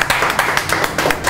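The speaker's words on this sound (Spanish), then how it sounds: "¡Fuerte el aplauso!" A television studio audience gives loud, rhythmic clapping to welcome a popular music singer, with sharp, regular beats in a steady pulse throughout.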